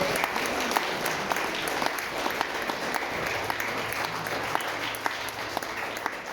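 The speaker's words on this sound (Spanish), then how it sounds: "Un aplauso fuerte, fuerte, fuerte al Espíritu Santo." Church congregation claps together in a steady, sustained round of applause, rhythmic hand claps running throughout, with a low voice or tone faintly underneath partway through.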